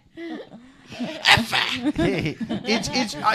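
A dog's short sneeze bursts out amid people talking and laughing, close and sudden.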